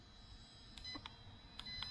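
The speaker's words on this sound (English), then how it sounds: "after the warning beep" A budget GPS beginner drone sounds short high electronic warning beeps, a handful of brief tones in an irregular pattern, faint against a low background hum.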